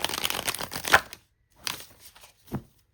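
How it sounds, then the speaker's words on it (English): Quick papery riffling of oracle cards being shuffled, a dense burst followed by two shorter shuffles after a pause, close and fairly quiet. "I'm going to shuffle my cards"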